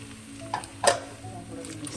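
Chopped onions going into a pan for chicken curry, stirred as they fry: a soft sizzle with a couple of close scraping stir strokes, brief and moderately quiet.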